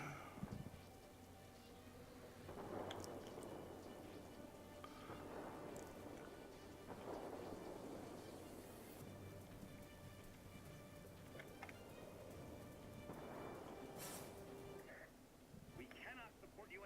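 Heavy rain with rolling thunder in a World of Warplanes storm, a steady broadband downpour with several low rumbling swells, under radio-style voices.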